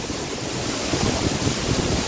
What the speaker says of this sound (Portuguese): Estamos no pé da cachoeira, literalmente. Não vou arriscar entrar de baixo, porque o volume de água é muito grande.